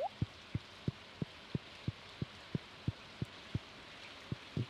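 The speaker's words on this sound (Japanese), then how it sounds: "あいにくの雨か" Rain falls in the farming game Stardew Valley as a soft, steady hiss, with evenly spaced light ticks repeating about three times a second throughout.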